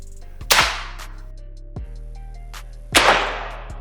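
A Blldox Xmax PCP air rifle fires two sharp, loud cracks, each followed by a short fading tail, with a fainter click between them against a steady low hum.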